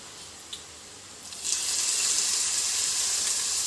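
Grated ash gourd sizzles in hot ghee in a pan, a steady hiss that swells after a soft start and then holds constant, with no talking.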